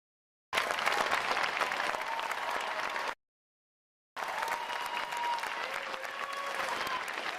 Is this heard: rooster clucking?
no